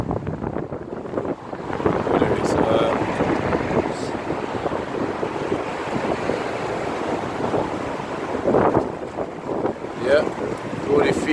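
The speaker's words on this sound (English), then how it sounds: "it is windy today" Wind gusts roar steadily across an outdoor campsite, a broad buffeting rush that swells and eases throughout, with faint speech and small handling knocks underneath.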